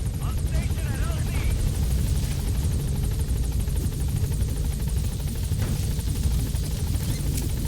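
The Pequod helicopter in Metal Gear Solid V approaches with a loud, steady rotor thrum and engine drone that fills the whole stretch, close and constant, with no talk over it.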